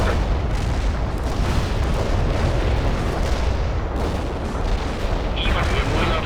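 Incendiary bomb explosions from the World in Conflict video game rumble continuously, a dense roar of booms and battle fire running for the whole stretch at steady loudness.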